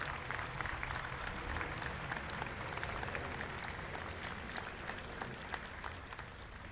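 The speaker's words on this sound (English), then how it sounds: "let's give them a round of applause" Applause at an outdoor Memorial Day ceremony for local VFW post presidents, a faint, steady wash of scattered clapping heard from a distance without a clear break.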